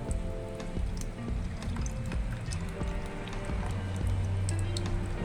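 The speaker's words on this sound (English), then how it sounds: "Let's go turn on the water." Tap water runs steadily from a newly installed Facet faucet in Jamaica, a continuous splashing hiss with small droplet ticks, moderately close and without talk.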